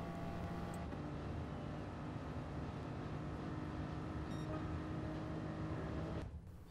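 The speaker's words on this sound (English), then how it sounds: "Just get the car to rotate so it is pointing towards the main straight and start to fully accelerate" A Gr. 3 race car accelerating in Gran Turismo Sport, a steady, faint engine drone holding a constant pitch for several seconds before cutting away abruptly near the end.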